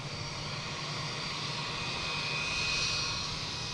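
Aer Lingus Flight 137, an Airbus A330-300 jet airliner at Boston Logan, gives off a sustained whining jet hiss and roar that builds gently toward the end, heard alone.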